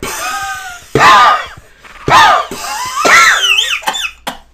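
A cartoon girl character in the Living Books game The New Kid on the Block screams in several loud, shrill bursts, each rising and falling in pitch, separated by short pauses, ending in quick squeals.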